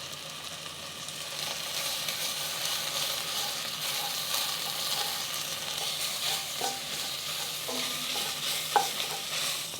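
Thai yellow curry paste being stirred and fried in a pan, a steady close sizzle running throughout with occasional scraping clinks of the utensil against the pan.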